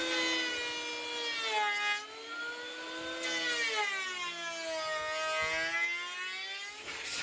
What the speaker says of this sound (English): using the big planer to finish off the ends